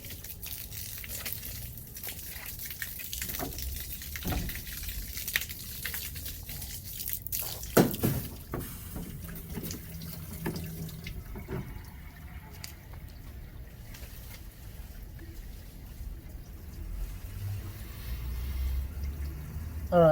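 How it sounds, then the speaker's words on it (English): Water is poured into the radiator of a 35 kW Briggs & Stratton generator during a radiator flush. It trickles and drips steadily throughout, with occasional clanks, and sits close and fairly quiet. "I'll just add the water into the radiator and watch it come out"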